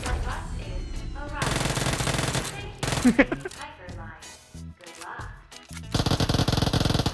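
Automatic gunfire in a shooting video game, fired in loud rapid bursts with short pauses between them and clattering game effects around them, with players' voices faintly mixed in at times.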